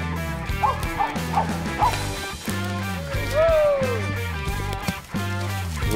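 A hunting dog bays and yips at an animal up a tree, giving several short barks in quick succession and then a drawn-out whine. The dog sounds moderately close, and a steady rhythmic musical bed plays underneath.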